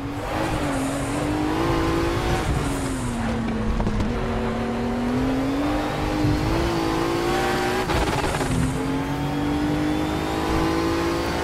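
A Fabcar 935 race car in RaceRoom on the Nordschleife accelerating hard, its loud engine note climbing and dropping through gear changes with a steady rasping roar and no talk.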